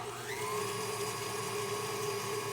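An electric mixer whirs steadily as it blends Kerrygold butter for baking, a constant motor hum with a slight pitch rise at the start, close and uninterrupted.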